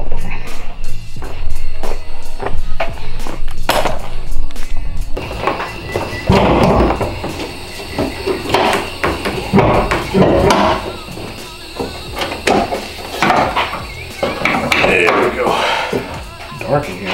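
Metal wrenches from a kit, needed for an oil drain plug, are grabbed and handled, giving irregular clinks, clanks and rattling bursts, close and fairly loud, with someone talking intermittently.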